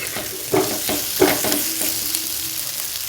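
Vegetables for a rohu fish curry are sautéed in a pan under a steady, close sizzle, with a few scraping stirs of a spatula and no talking.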